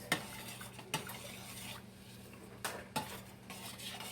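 A spoon scrapes and stirs canned gravy in a pot on the stove for steak and gravy, with a few sharp metallic clinks against the pot and quiet scraping and a soft sizzle between them.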